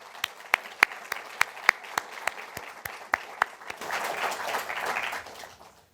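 Audience applause following an architecture foundation evening lecture, starting as a few loud, separate claps and building into dense, sustained clapping from a crowd before fading out.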